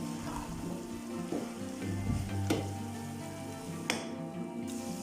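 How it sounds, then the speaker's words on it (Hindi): Keema mince being stirred as it fries in a pan for a Lahori-style dish, a steady close sizzle with a few louder scraping stirs and clatters of the spoon, no voices. "अच्छी तरह मिक्स करेंगे"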